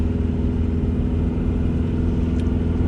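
A 1.9-litre diesel car engine labours uphill, a loud, steady low rumble that holds throughout with only slight fluctuation, close and continuous with no talk over it.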